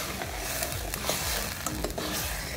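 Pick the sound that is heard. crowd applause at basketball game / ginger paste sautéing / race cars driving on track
ginger paste sautéing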